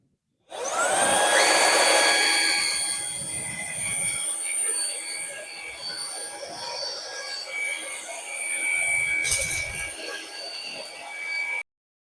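A Ryobi brushless upright vacuum cleaner switches on with a rising whine and runs loud and close with a steady high motor hum that dips slightly midway and then cuts off at the end.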